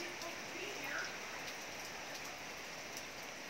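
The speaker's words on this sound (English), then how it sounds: "it's been raining most of the day" Steady rain falls during the Philippine rainy season, a soft continuous hiss of drops on surfaces with occasional sharper patters, fairly faint and even throughout.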